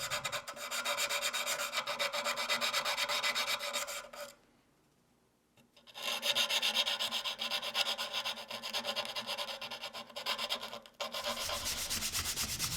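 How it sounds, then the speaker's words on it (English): Steady, close scratchy rasping of sandpaper strips softening wooden lamp edges continues for several seconds, briefly stops, then resumes just as vigorously. "I'll soften the edges with strips of sandpaper"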